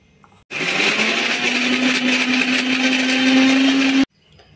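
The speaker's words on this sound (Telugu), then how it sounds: "ఈ ఫస్ట్ మిక్సీ పట్టేసుకోవాలండి" A kitchen mixer grinder blends raw ivy gourd pieces into chutney paste. One loud, continuous whirring burst of about three and a half seconds starts and stops abruptly, and its motor pitch climbs slightly as it runs.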